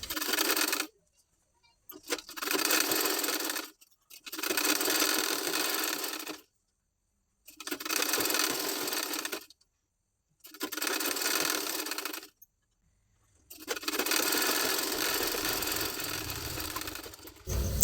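A sewing machine stitches a two-inch-wide waistband onto the back piece of a garment, running in five or six loud, steady bursts of a second or two each, with quiet pauses between them.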